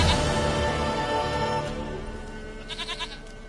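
In The Witcher 3, a goat gives a long, loud, wavering bleat close by, then a few softer bleats trail off after it.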